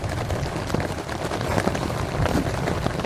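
Rain falls steadily on a mountain campsite at a trail post, with dense close patter and scattered heavier drops hitting nearby surfaces throughout.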